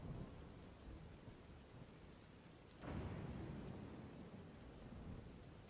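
Steady rain pours in The Legend of Zelda: Tears of the Kingdom, a dense even hiss with a low rumble of thunder rolling in midway, heard alone without talk.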